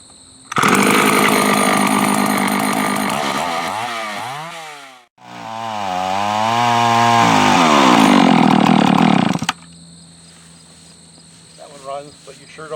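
A Husqvarna 154 chainsaw with a poorly filed chain runs loud and close, revving hard, dropping briefly to near idle, then revving again before it cuts off. Faint background noise follows.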